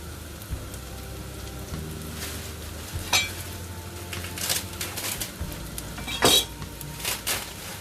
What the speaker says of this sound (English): Just break apart the onions as we go in.